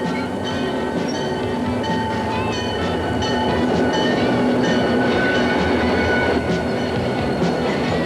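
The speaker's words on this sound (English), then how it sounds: "Freight trains are used to carry all kinds of heavy loads, and they are the workhorses of America's rails." Heavy American freight train rolling past, a loud steady rumble of rail cars with clattering wheels and faint metallic squeals throughout.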